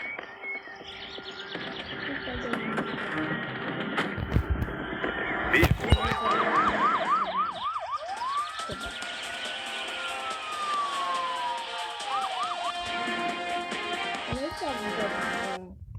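A police siren wails in rising and falling sweeps midway through, sounding fairly near over traffic-like background noise.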